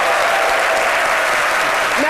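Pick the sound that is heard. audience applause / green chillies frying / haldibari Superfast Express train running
audience applause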